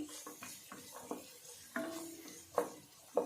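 Garam masala mixture being stirred in a pan while a pasta dish is cooked, with soft scraping strokes over a low, steady sizzle and a few sharper utensil scrapes near the end.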